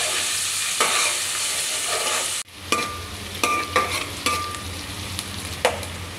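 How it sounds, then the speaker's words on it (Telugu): Food frying in a pan, stirred with a spoon: a steady bright sizzle broken by a sharp clack, followed by several scraping strokes and taps against the pan, close and without talking. "దీన్ని ఇలా కలుపుకోవాలి."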